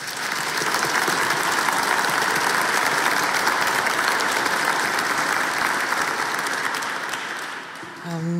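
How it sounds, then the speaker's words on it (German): A charity concert audience in Vienna gives warm, steady applause, loud and continuous for several seconds, easing slightly near the end as a voice begins. "Einen herzlichen Applaus bitte."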